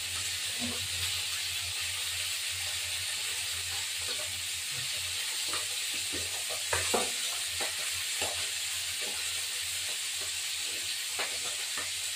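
Spiced masala paste sizzles and fries steadily in a pan for a fish curry, a constant hiss with occasional soft stirring clicks and spatters, close and alone.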